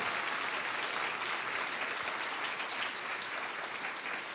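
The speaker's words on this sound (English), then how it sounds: "a big Earthkeeper round of applause for Dr. Semir Osmanagic" Sustained audience applause after a speaker is introduced at a talk on possible pyramids in Bosnia, a dense continuous roar of many hands clapping, loud and even from start to finish.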